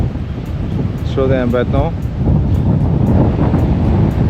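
Strong wind blowing steadily across an open port area in Barcelona, a broad rumbling roar under a brief spoken remark from a nearby voice.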